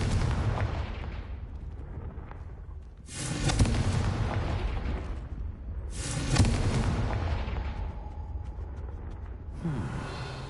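Fire-blast spell explosions from a video game, two big booming bursts that flare up loud and roll off into a sustained rumbling blaze, with a third burst starting near the end.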